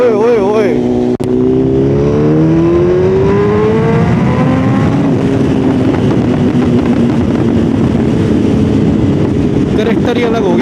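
BMW S1000RR sportbike with a stage 2 tune and aftermarket exhaust, revving hard and loud up close, pitch sweeping rapidly up and down with rough, sustained roar and a sharp crack early on.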